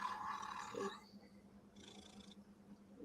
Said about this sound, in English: Wow, you got a loud purr, buddy.